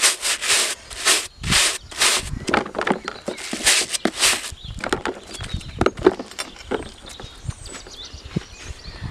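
Brushes are scrubbed and washed with foam in a rapid series of loud, rhythmic rubbing strokes, then softer wet scrubbing and light knocks, all close up with no talking.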